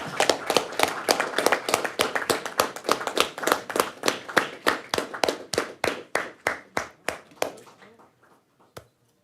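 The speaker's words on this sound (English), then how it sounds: "let's recognize with applause the recipients for extending extra effort." At a college district board meeting, a small group claps in a brisk, even rhythm of distinct hand claps that gradually thin and fade to a last lone clap.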